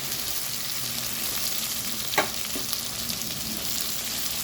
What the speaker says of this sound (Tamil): அது கொஞ்சம் வதங்கட்டும்.